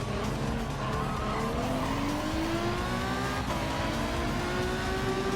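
Alfa Romeo 155 race car in Gran Turismo 7, engine droning loud and close with a slowly rising pitch as it accelerates, tire squeal mixed in, no talking.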